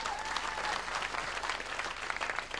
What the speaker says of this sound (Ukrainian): Итак, ваши аплодисменты, поехали